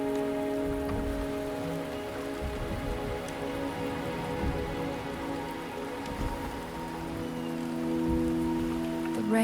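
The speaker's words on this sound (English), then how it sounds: "The rain is subsiding, and the sky will soon clear." Steady rainfall in the video game Wuthering Waves, a continuous patter and hiss of drops on surfaces with soft sustained music tones underneath.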